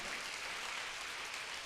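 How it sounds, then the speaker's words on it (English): Sustained applause from a crowd at a college remembrance-day ceremony honoring a guest, an even, continuous roar of clapping heard from a distance at moderate level. "a big round of applause while we honor our guest of honor for today"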